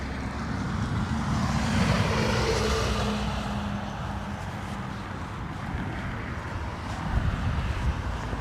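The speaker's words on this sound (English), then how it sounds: "We have a 737-800 Transavia next." Transavia Boeing 737-800 airliner landing at Dublin Airport, a steady broadband jet roar with low engine rumble held loud and close throughout, swelling slightly near the end.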